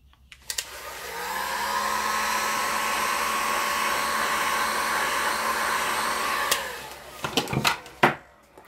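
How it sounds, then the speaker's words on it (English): A heat gun blows hot air in a steady, loud whooshing whine for about six seconds to soften a plastic record for cutting butterfly wings, then switches off, followed by a few clicks and handling knocks. "We're getting out the heat gun"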